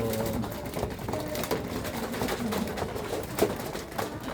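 Breeder pigeons coo softly and repeatedly against a steady background hum, with low murmuring calls overlapping throughout.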